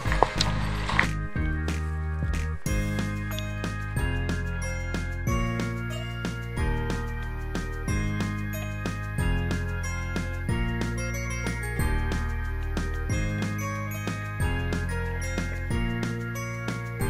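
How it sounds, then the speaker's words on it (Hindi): A phone alarm rings beside a lake campsite, a steady repeating electronic melody looping with a regular beat throughout, fairly close and clear, with no talking over it. "ये अलार्म बज रहा है मेरा"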